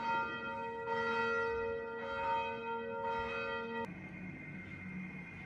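Church bell ringing behind a hotel room door, three slow resonant strikes with long humming decay, then a sharp click as another tone takes over, muffled and moderately loud.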